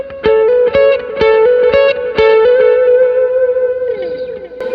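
Electric lead guitar lick with hammer-ons and pull-offs, several crisp picked notes in a steady rhythm, then a long held note sliding down, bright with distortion, chorus and echo, close and loud with no voices.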